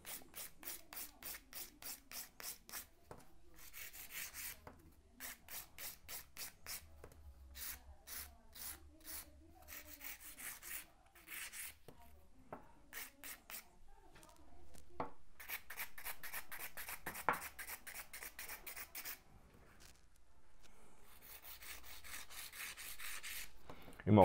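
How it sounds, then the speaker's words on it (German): Gel nail being shaped at the apex with a hand nail file, a close, steady series of rhythmic rasping strokes in bursts with short pauses between, no voices. "Beim Feilen des Apex feile ich an der Nagelhaut zur Mitte nach oben und vorne feile ich von der Mitte zur Spitze nach unten."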